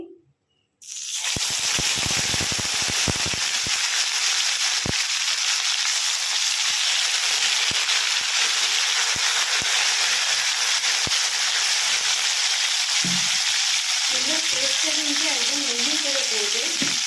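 A paste of ginger, tomato, garlic and onion hits a hot pan and sizzles loudly. It starts with a sudden burst and then holds a dense, continuous hiss close by, broken by a few stirring clicks, with no talk.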